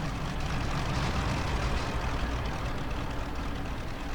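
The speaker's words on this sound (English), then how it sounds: "Engine is running okay." MiG-3 fighter engine in the IL-2 Sturmovik flight sim, running steadily after start-up: a dense, continuous low roar at constant loudness throughout, with no talk.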